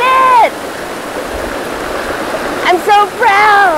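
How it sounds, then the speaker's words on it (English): A flowing stream drives a homemade water wheel, giving a steady close rush of water throughout, with brief bursts of people talking over it at the start and near the end. "And this is my water wheel."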